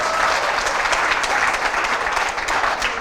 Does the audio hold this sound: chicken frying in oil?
no